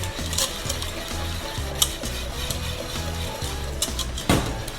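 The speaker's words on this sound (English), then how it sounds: "You can always go into the corners of it with a spatula, rubber spatula, that way none of the roux is sticking to the sides of the pan." A rubber spatula stirs roux in a pan and scrapes into its corners, making a steady rhythmic scraping over a constant sizzle, with a few sharper knocks, close and loud.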